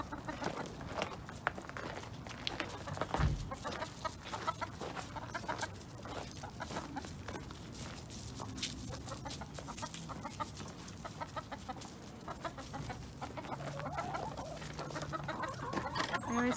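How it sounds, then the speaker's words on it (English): A flock of backyard garden chickens clucks steadily and busily up close, with overlapping soft calls and rustling, scratching movement throughout. "I always feel very popular when I'm visiting the chickens, but it's mostly that they want me for the snacks."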